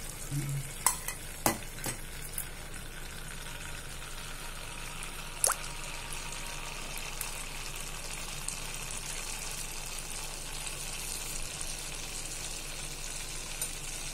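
Moong dal kuzhi appam batter sizzles in the pan with a steady, even frying hiss, broken early by a few small clicks and taps.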